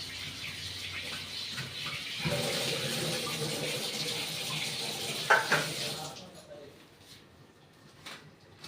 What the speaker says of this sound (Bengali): বেগুনটাকে ভালো করে ধুয়ে আমি নুন হলুদ মাখিয়ে নেব